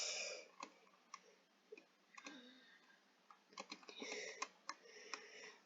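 Computer keyboard typing with backspace presses during game coding, scattered clicky keystrokes in irregular bursts and pauses, close and fairly quiet, no talking.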